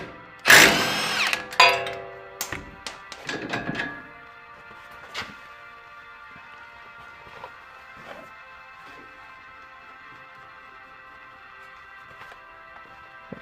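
A power tool bursts loudly up close on the 17 mm sway bar link nuts of a 2018 Toyota Tacoma, with a few short whirring pulls followed by scattered clicks and clinks of tools and parts that fade into quiet.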